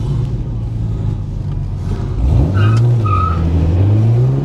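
A Nissan 350Z drifts in tandem with a Camaro at Capitol Raceway, engine droning close by, then revving up sharply with rising pitch amid tire noise.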